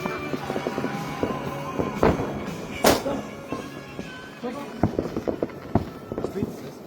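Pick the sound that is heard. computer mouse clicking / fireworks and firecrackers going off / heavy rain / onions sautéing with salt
fireworks and firecrackers going off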